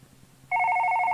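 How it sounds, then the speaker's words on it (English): A telephone suddenly starts ringing, a loud, steady electronic trill that cuts in after a soft low hum and keeps going without a break. "Suddenly the phone rang."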